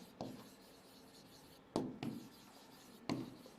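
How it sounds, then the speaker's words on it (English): Pen or pencil writing a note on paper, close and quiet, with three separate bursts of scratching strokes spaced across a hushed room. "Let me write a note point here."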